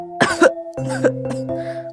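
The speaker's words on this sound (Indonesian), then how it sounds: "hanya batuk biasa" A mother working in a rice field coughs in a few harsh bursts, close and clear, with a bit of throat clearing mixed in and no talking.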